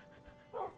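A short dog bark from Minecraft game audio, a single brief yip over low background hum.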